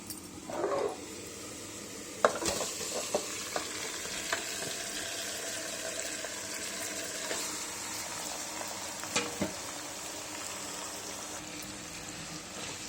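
Chicken with softened onions, coriander and fenugreek leaves stirred in a hot pan, a steady sizzle with scattered scraping and clinking taps of the spoon, fairly quiet and close, with no talking.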